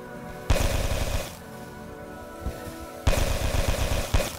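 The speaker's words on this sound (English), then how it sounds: "Yay for the railgun." Railgun shots in the Limit Theory space game: two loud, heavy bursts of rapid rumbling fire, each lasting about a second, with a faint thud between them and no talking.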